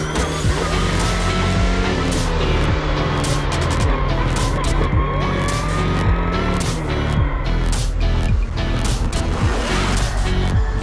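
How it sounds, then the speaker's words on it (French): Lamera Cup race cars roar together at a race start at the Circuit du Castellet, where a first-lap contact triggers a small pileup. Loud, dense engine noise runs throughout, streaked with tire squeal and passing cars. "ça commence très fort avec un premier contact entre la 38 et la 31 qui déclenche derrière un petit carambolage"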